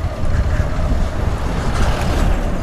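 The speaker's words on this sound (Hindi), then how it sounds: "दबा के बारिश हो रही है, लेंस में ही पानी आ गया होगा आगे।" Heavy rain and rushing wind roar steadily and loudly around a motorcycle rider on the road toward Haldwani, a dense wash of noise with no talk.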